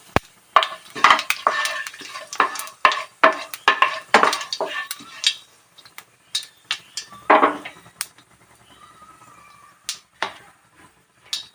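Bay leaf and whole cumin hit oil left from frying potatoes, giving brief sizzles among sharp clinks and scrapes of a spoon against the pan, irregular and close with quiet gaps between bursts.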